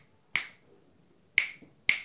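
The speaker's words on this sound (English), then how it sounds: "if you snap your fingers over here" Three crisp finger snaps close to a wearable tech hat built as an Arduino sensory project, sharp and spaced unevenly with quiet gaps between, with no talk.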